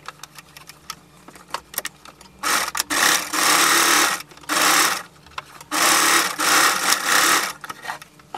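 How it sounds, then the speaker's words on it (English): A sewing machine stitches the side seams of an off-shoulder gathered dress, running in four loud bursts of about a second each, separated by short pauses and faint handling noises. "you're going to go ahead and sew it on the sides"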